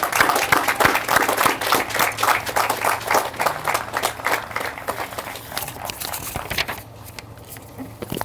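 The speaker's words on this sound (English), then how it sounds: "How about a round of applause?" Applause for police award recipients at a public safety department ceremony, a dense run of clapping from an indoor audience that carries steadily for several seconds, then thins and softens toward the end.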